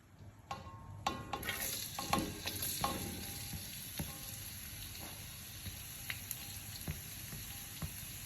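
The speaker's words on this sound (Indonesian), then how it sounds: "kita cukup tumis bawang putih yang udah kita rajang tadi" Chopped garlic sautéing in a pan, a faint continuous sizzle with scattered taps and scrapes of stirring near the start, no speech over it.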